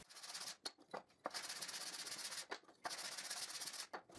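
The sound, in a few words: sanding wooden bar clamps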